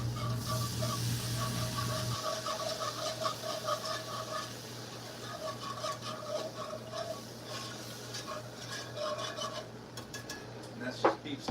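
Beef stock gravy being whisked in a pan, a steady close rasping and scraping that runs continuously with a fast, uneven rhythm, loud and without voices.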